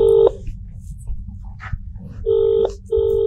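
A phone dialing on speaker, with steady tonal beeps: one ends at the start, then two longer beeps follow after a pause, over low background noise and a brief thump.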